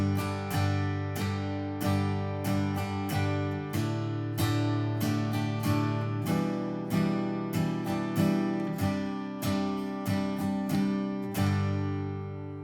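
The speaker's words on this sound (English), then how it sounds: "I'll just play that one example again and just watch how my hand's just a constant pendulum motion." Rhythm guitar strummed with a constant down-up pendulum motion, bright chords repeating in an even, steady pattern with regular accents, clear and close with no talking.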